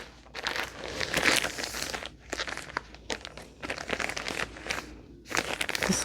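Plastic bag full of feathers being opened, with a resealable zip, as a steady run of loud, close crinkling and rustling in bursts across several seconds, with no speech.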